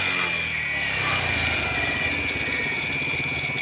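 A Kawasaki CT motorcycle engine runs steadily after its busted spark plug cap is replaced. The engine hums evenly and close throughout, with a continuous mid-pitched drone and a high whine on top, and no speech over it.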